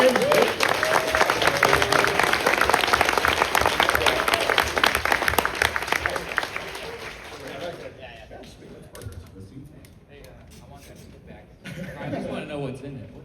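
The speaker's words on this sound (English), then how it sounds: "Everyone give a round of applause to legendary, the last known artist, Ben." An audience at a comic-con panel claps loudly for an artist in a sustained round of applause that gradually thins into scattered claps, with people talking as it dies down.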